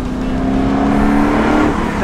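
A supercharged Ford Mustang GT500 engine and exhaust growl loud and close, with a held tonal whine riding over the rumble that swells slightly, then eases near the end.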